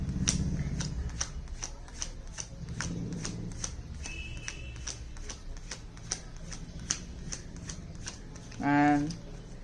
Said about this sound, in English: now if we go through these cards, the cards are completely normal